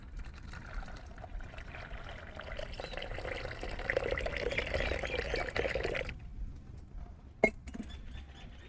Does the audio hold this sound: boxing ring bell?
no